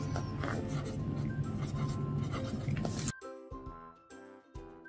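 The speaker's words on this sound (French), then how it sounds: "je vais venir le noter ici au crayon de papier." Pencil scratches steadily across the paper of a budget notebook, a close, continuous rubbing drawn in short writing strokes.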